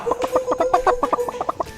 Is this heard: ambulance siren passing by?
no